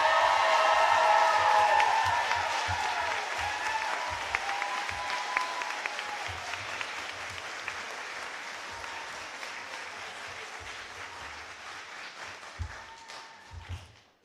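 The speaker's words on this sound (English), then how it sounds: "Another round of applause to honor our graduates." A large commencement audience applauds graduates, dense sustained clapping that starts loud and gradually thins and fades over about fourteen seconds, with a few scattered claps near the end.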